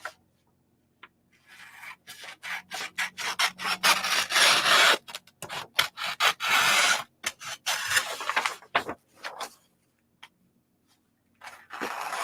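Close, rasping strokes of a sublimation shirt sheet being trimmed come in irregular bursts of rubbing and scraping, separated by brief silent pauses.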